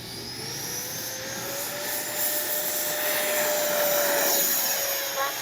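A Freewing F-4 Phantom II RC jet taking off on a warm day, its electric ducted-fan whine rising steadily in pitch and growing louder as it spools up and departs, heard without speech.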